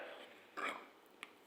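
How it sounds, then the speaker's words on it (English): A single short, fairly close burp bursts out from an otherwise quiet indoor setting, followed by a tiny click, with no speech around it. "I just burped on camera."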